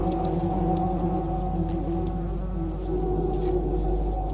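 Dense insect buzzing from bees and a hornet, a steady layered drone with several pitched hums, close and continuous throughout with no break.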